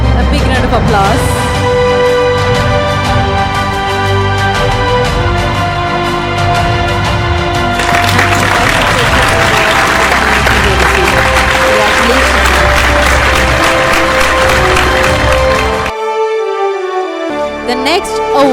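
Sustained crowd clapping at a scientists' award distribution ceremony, loud and continuous for about sixteen seconds with music underneath, then cutting off abruptly.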